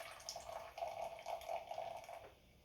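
Soda pours into a glass in a quiet, close trickle that gurgles unevenly for a couple of seconds, then fades out.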